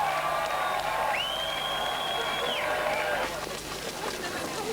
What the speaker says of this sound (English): Watching from West Berlin as they've done for several hours, the crowd shout ecstatically